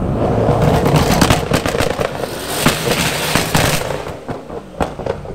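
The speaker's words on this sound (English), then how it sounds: "banging and popping and farting on the two-step" A Corvette C8 on two-step launch control at a drag strip fires rapid, loud exhaust bangs and pops in an irregular crackling burst that carries on throughout.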